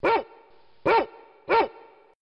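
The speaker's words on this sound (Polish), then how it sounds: "Piesek szczeka." Three loud, sharp dog barks spaced evenly, each a single bark with quiet pauses between.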